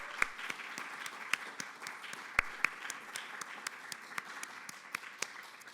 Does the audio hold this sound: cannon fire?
no